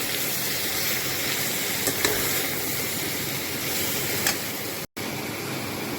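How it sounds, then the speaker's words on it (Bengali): Bean, eggplant and cauliflower stalks fry in a pan with salt and turmeric, giving a steady, close, even sizzle and hiss throughout, with no one speaking. "নুন হলুদ এবার দুটো দিয়েই আমি ভালো করে ফ্রাই করে নেব।"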